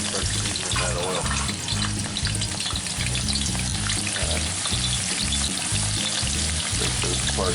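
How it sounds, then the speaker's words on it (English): A whole large sweet onion fries in seasoned oil in a cast iron pan, a loud, steady sizzle running without pause over a pulsing low rhythm, with no voices. "we're going to go ahead and put one whole large sweet onion right on in there and start seasoning that oil"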